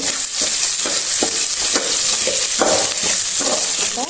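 Onions frying in a pan with a little salt, for a Kundapure-style prawn sukka masala: steady loud hissing sizzle throughout, with soft rhythmic scraping and stirring strokes beneath it, no voices.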